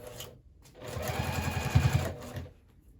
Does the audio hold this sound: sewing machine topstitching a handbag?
yes